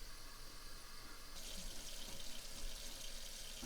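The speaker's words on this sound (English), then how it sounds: "I'm gonna fill it up to where the water kind of covers right over top of my potatoes" Tap water runs steadily into a pot of potatoes in a kitchen, a continuous close hiss and splash that brightens and grows fuller partway through as the pot fills, with no talking.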